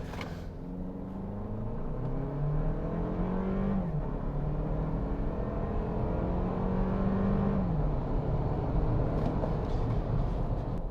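A 2024 Toyota Land Cruiser First Edition in four-wheel-drive high launches hard from a brake boost, its engine rumbling and rising through the revs with audible gear shifts, heard from inside the cabin, steady and loud without talk.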